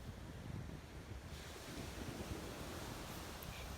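The muddy, flooded Maha Oya pours into the sea at its mouth after a cyclone, making a constant broad roar of rushing water and surf mixed with gusting wind noise, with no voices.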